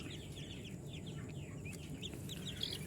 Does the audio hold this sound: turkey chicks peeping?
yes